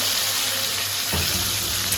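Continuous hissing sizzle of potatoes frying in hot oil for french fries, close and steady, with a brief clatter midway.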